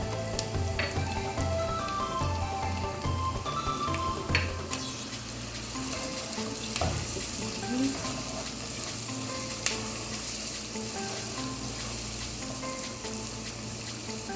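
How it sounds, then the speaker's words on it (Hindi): Onions fry in a pan for keema karela with a constant, dense sizzle and crackle, close and even throughout, joined by an occasional scrape or clink of a spoon and no speech. "अच्छा अब ये हमारा प्याज जो है ये काफ़ी फ्राई हो चुका है।"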